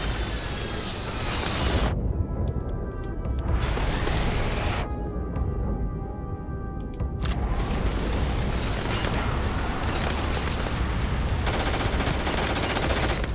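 Loud, sustained bursts of automatic gunfire with heavy booming impacts rattle through a Starfield firefight against the Crimson Fleet, the shooting pausing briefly twice before resuming.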